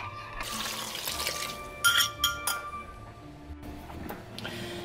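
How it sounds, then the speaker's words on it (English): Bouillon-mixed water poured into a dish of stuffing mix with bread cubes, a soft liquid trickle broken by a few bright clinks of glass or utensils against the container. "So there's the water mixed with the bouillon."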